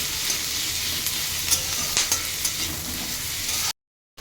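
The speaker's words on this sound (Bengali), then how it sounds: "এরপর কড়াইতে তেল দিয়ে আমি কুচনো পেঁয়াজ আর টমেটো কুচনো দিয়ে দিয়েছি" Chopped onion and tomato fry in hot oil in a wok, a loud steady sizzle with a few utensil clinks, cutting off abruptly near the end.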